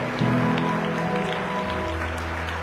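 A church congregation applauding for Jesus during a prophetic worship service, a dense, sustained burst of clapping with a steady low hum beneath it, fairly loud and even across the whole stretch.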